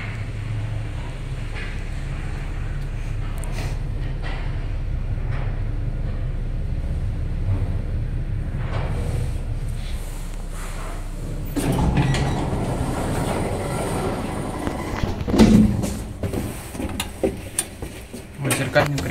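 A KMZ passenger elevator with telescopic doors in a residential building, a low mechanical hum and rumble of the car travelling, followed by clunks and sliding rattles, with people talking briefly over it.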